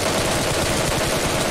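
Dense, continuous automatic gunfire in the Battlegrounds Mobile India video game fills the whole short stretch, loud and steady without pauses.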